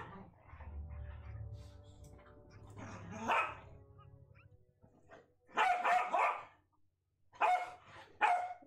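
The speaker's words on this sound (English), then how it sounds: "Loud puppy time." A puppy barks loudly in a home, a few sharp yelps and barks in separate bursts after quieter whimpering and rustling, close and high-pitched.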